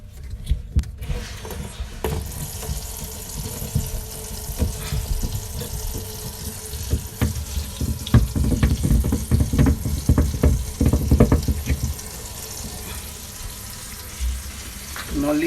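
Water turned back on at a kitchen supply line while installing a dishwasher, a hissing rushing flow with irregular splashing and clattering, louder in the middle, with some faint speech.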